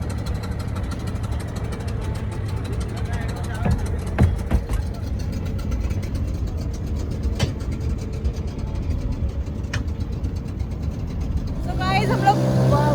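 Motorboat engine droning steadily at sea, a loud continuous hum with occasional knocks, and voices faintly mixed in toward the end.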